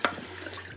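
Water briefly splashes over a removable middle part of an essential-oil diffuser as it is rinsed under a tap: a quiet, short burst of running water.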